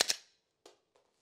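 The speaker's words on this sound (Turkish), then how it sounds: "Şarjör hafif çıkarttım. Bıraktım. Oturtturdum." A pistol magazine is pulled slightly out and then seated back in, giving a sharp metallic clack followed by two fainter clicks, close and isolated.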